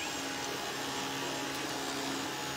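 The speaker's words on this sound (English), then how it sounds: "what I love about this vacuum is you can put it on eco and listen to how quiet it is" Dyson vacuum cleaner running on eco mode in a playroom, a steady, fairly soft whirring hum with a constant airflow hiss and no voices.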